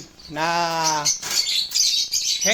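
An opaline yellow hen pet bird chirps and squawks up close, a harmonic call followed by sharper bursts of chatter.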